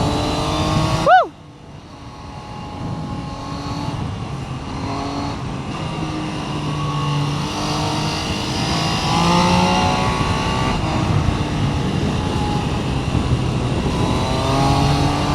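A 2026 Triumph Trident 800 motorcycle being ridden on the road, its engine revving hard through a quick rising shift, then holding a steady, loud onboard drone with wind rush that slowly builds.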